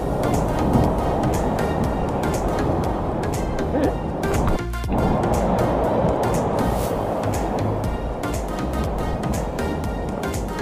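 Strong ocean waves crash at Cabongaoan Beach in a continuous loud, close roar of surf, with heavier breaking surges rising out of the steady wash.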